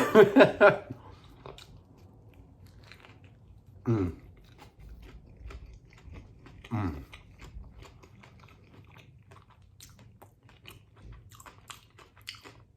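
Burger King fries being eaten up close, with a crunchy bite burst at the start and two more distinct chewing bites around four and seven seconds, then quiet with faint small clicks; no talking.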